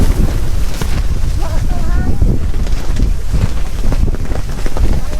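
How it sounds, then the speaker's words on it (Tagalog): Loud, steady wind at a campsite in Botolan, Zambales buffets the microphone with a constant low roar, while a voice talks faintly underneath. "sobrang lakas ng hangin dito"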